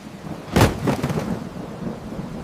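Rain falling with a sharp crack of thunder that rolls off into rumbling over a steady downpour, fairly loud and close, with no voices.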